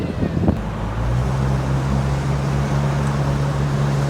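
The Roadkill Fiero, a Pontiac Fiero project car, cruises on a paved road, producing a sustained low engine drone with a steady hum and road and wind noise after a brief bump at the start, with no talking.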